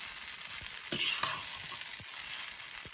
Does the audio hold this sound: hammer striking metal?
no